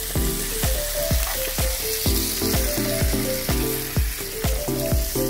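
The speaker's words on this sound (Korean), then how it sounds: "삼겹살이 노릇노릇 갑니다" Samgyeopsal pork belly sizzles loudly in a pan at a campsite, a steady close crackling hiss broken by regular sharp pops and spits of fat.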